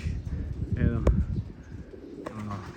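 Pigeons cooing close by, with low throaty coos and a few brief calls over a rumbling background, while a person talks at the same time.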